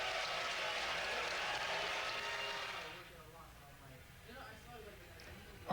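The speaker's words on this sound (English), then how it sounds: "now they're yelling or they're booing" Crowd at a Turning Point USA event at UCLA yelling and booing, a loud broad roar of many voices for about three seconds that then drops to a low murmur with scattered shouts.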